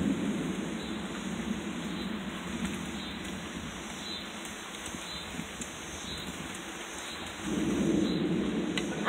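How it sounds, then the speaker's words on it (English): Heavy rain pours down during a storm with a deep rumble of thunder underneath, steady and enveloping, swelling louder near the end, with no talk. "Here comes the rain."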